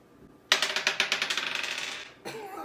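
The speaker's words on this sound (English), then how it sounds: "So I'm gonna roll this dice and I'll hit you up with the Cash App." A single die rattles and clatters in a quick run of sharp clicks that taper off as it rolls to a stop, fairly faint and close.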